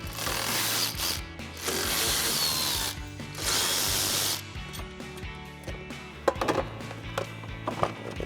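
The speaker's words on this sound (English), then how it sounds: "So I've got my 8mm socket on my ratchet." A hand ratchet with an 8mm socket backs out three screws from the rear fender well area of a Jeep Wrangler JL, making bursts of rapid close clicking separated by pauses, with a few sharper knocks and clatters toward the end.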